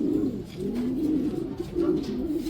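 A racing pigeon coos repeatedly on arriving home from a hot, hard 411 km race, its soft throaty calls close and steady, with no talking.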